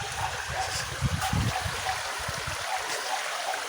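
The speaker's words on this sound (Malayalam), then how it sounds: "വീടിനെ തൊട്ട് ഫ്രണ്ടിൽ തന്നെ ഉണ്ട് ഒരു തോട്" A small stream runs right in front of a house in a forest area, its water babbling and trickling softly and steadily nearby.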